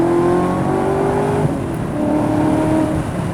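A Ford GT with a titanium exhaust revs loudly nearby, a deep steady engine tone rising and falling in pitch across a few seconds, with no talking.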